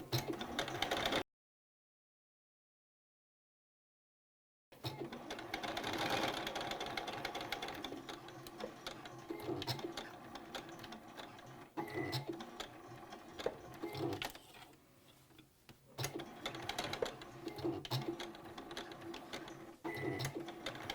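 A sewing machine stitches back and forth over elastic on a fabric face mask, a fast, even mechanical chatter close by. The stitching stops briefly into silence, then resumes with small pauses and shifts in speed as the fabric is pivoted.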